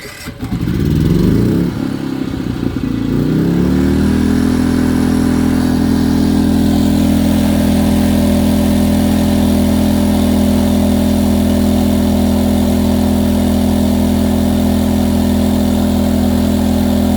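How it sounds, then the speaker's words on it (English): An EcoFlow smart generator's engine starts remotely, sputtering and catching over a few seconds before settling into a loud, steady, droning idle that holds to the end. "Now we have the smart generator connected to the battery, and let's use the app to turn it on."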